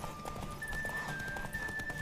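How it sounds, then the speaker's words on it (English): Hoofbeats of a galloping horse in The Witcher 3 video game, a steady clip-clop running through the whole short stretch at moderate level, with a faint tonal game sound over it and no talking. "Don't spare the horse."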